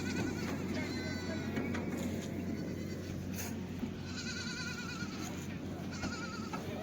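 Kathewadi goats from Junagadh, Gujarat, a nanny with three kids, bleat repeatedly in thin, wavering calls against a constant low hum at a livestock sale, with voices nearby.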